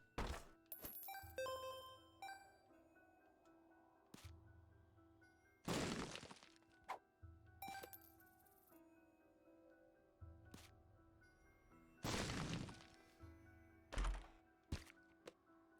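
Bombs going off in The Binding of Isaac, several heavy thuds with sharp cracking bursts spaced through the stretch, each decaying quickly, over quiet game music with no talk.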